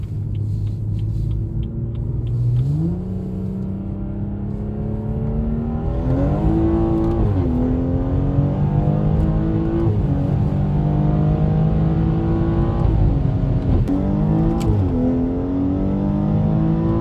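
A BMW M240i tuned to 500 horsepower revving and accelerating up close, its rumbling engine climbing in pitch several times as it pulls through gears.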